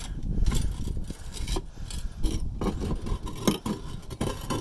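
Rough scraping and grinding of a metal pry bar against a concrete roof tile in uneven bursts, close by, with a few sharper knocks and rasps between strokes.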